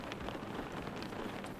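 Steady rain falling in the video game Chasing Static, a dense continuous patter with no voices.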